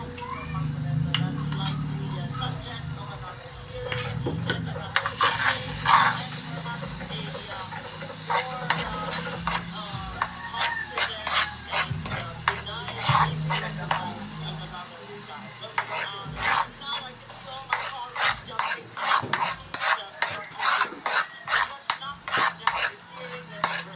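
Garlic sizzling in a pan while a utensil stirs and scrapes against it, a steady hiss broken by clattering metal taps that quicken toward the end, with faint talk beneath.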